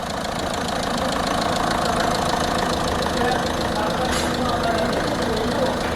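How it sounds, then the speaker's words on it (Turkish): A Citroen C4 engine with about 260,000 km idles steadily up close after a timing belt and clutch replacement, a constant mechanical hum with a faint rhythmic ticking throughout. "Şu an aracın motor sesinden başka bir ses yok."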